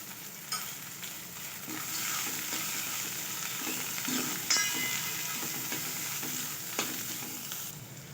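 Mixed vegetables, cabbage and peas among them, fry in ghee for a vegetable soup, giving a steady close sizzle with occasional light clinks and scrapes of a spoon against the pan.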